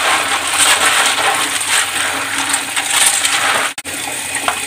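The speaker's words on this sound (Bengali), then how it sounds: "এই আমাদের পাস্তা হয়ে গেছে, এখন আমি একটু ধুয়ে নেব।" Boiled macaroni is rinsed under running water, a loud, continuous close-up gush of water splashing over pasta in a strainer, with a brief clatter near the end.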